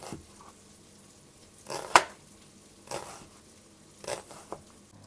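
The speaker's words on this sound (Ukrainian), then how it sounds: "я нарізаю цибульку з такими напівкольцями." Knife slicing an onion into half rings on a cutting board while fish fries nearby, giving a few separate crisp cuts and taps spaced about a second apart, fairly faint, with no talking.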